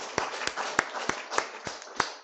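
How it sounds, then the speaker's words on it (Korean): During a Korean church worship service, a congregation claps in unison with seven sharp, evenly spaced claps in a brisk rhythm, fairly close and clear. "우리 다 박수 한번 하겠습니다."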